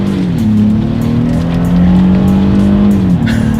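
A 2019 Honda Passport engine revs hard and steadily, climbing in pitch and dropping back as paddle-shifted gear changes cut in, loud and close throughout with no talking.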